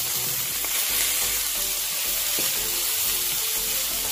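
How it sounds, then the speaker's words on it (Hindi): White chickpeas and onions fry in hot oil, giving a loud, continuous close-up sizzle with occasional stirring scrapes throughout. "अब हम इसी तेल के अंदर हम जो है सफ़ेद चने जो हैं वो इसमें डालेंगे। साथ ही इसमें हम प्याज डालेंगे"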